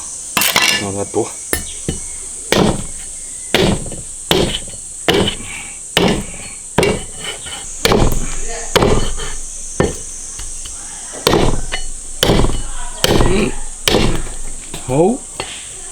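Repeated hard cleaver chops through braised pig trotter bones on a chopping board, about twenty sharp knocks in an uneven rhythm, close and loud, with no voices.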